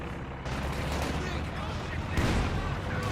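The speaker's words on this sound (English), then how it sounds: "Comm Engineers are getting suppressed by the MG." Machine gun fire in Company of Heroes 2 pinning down Commonwealth engineers, heard as dense continuous battle noise with a louder burst near the end, blended with other distant gunfire and explosions.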